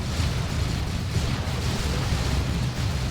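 A Leman Russ tank explodes in the Dawn of War 2 strategy game with a dense, sustained roar of blast and rumbling debris, loud and steady throughout with no speech.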